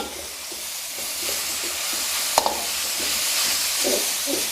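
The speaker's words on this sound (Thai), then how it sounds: "ใส่กระหล่ำลงไปก่อน ต้นหอมใส่ทีหลังครับ ให้กระหล่ำโดนความร้อนให้สลดก่อน" Continuous sizzling of cabbage being stir-fried in a hot pan, with a steady hiss and occasional clinks of a utensil against the metal.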